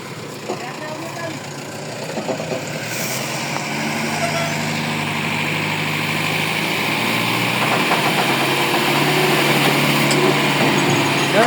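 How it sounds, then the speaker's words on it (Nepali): A tractor engine runs steadily nearby while lifting at an accident site near Bange Simal, Surkhet, Nepal, a constant droning rumble that grows slightly louder over time. "ट्र्याक्टर चाहिँ मजाले उठाउँदो रहेछ"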